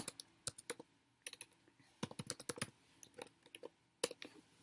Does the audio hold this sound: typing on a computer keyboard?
yes